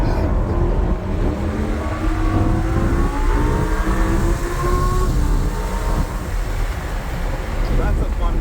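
A Lamborghini Huracan roars at full throttle around a racetrack, its engine note climbing steadily under heavy wind buffeting, loud and continuous throughout.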